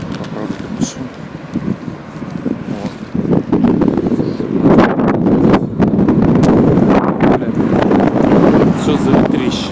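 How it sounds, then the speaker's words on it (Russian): Fierce wind batters the microphone outdoors in deep, rumbling gusts that start moderate and grow louder, staying strong and unsteady through the rest of the stretch. "Что за ветрище такое? Что за ветрище, друзья?"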